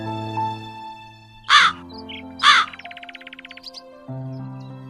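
Crow cawing: two loud harsh caws about a second apart, followed by a rapid rattling call, set against soft sustained musical tones in the background.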